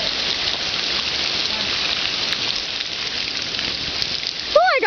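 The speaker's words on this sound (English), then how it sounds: "Alright, I'm going out in the rain." Rain pours steadily outdoors during a storm, a dense, close, unbroken hiss of drops on surfaces that holds level throughout, with a brief faint chirp near the end.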